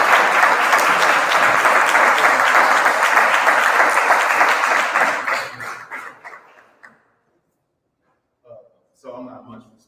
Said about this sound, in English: Clap it up for Mr. Gino LeGrand.